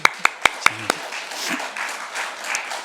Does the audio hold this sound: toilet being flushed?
no